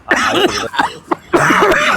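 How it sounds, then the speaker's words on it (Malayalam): A person coughs harshly several times in quick succession, close and loud, with short raspy bursts and brief pauses between them. "നല്ല ചുമയാണല്ലോ ഭയങ്കര ചുമ"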